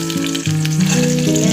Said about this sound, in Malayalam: എണ്ണ ഒഴിച്ചു, കടുക് ഇട്ടു, ഉള്ളി ഇടുക, പിന്നെ തേങ്ങാക്കൊത്ത് വരത്തവാ